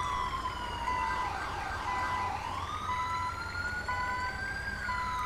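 An ambulance siren wails steadily throughout, its pitch sweeping up and down in a continuous loud cycle, with a low rumble of traffic or engine noise underneath and no voices.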